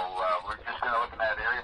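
VHF marine radio chatter during a mayday search for a missing boat in the North Channel: band-limited, voice-like transmissions in three short bursts, fairly loud and continuous.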